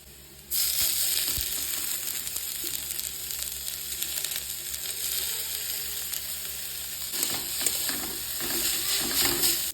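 Steady sizzling of potatoes and carrots frying with onions in a hot pan, loud and close, starting abruptly and continuing without pause, with faint scraping now and then.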